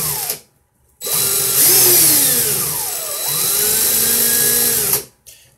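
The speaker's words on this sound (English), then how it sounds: "So basically I just turned my drill and made sure that that swivel's turning" Electric drill spinning a swivel to twist wire for coil building, a loud whining motor that starts abruptly, sweeps up and down in pitch as speed changes, then cuts off.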